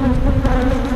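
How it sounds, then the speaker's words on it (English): Honey bees swarm loudly around an opened hive during hive maintenance, a dense, steady droning buzz that holds without a break close to the listener. "these bees are not happy, buddy"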